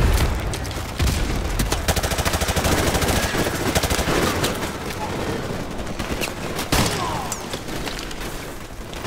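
Dense machine-gun fire in Call of Duty: Modern Warfare Remastered, loud rapid bursts with scattered booms, continuous throughout.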